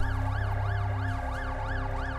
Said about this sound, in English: Is this the ambulance for my mom?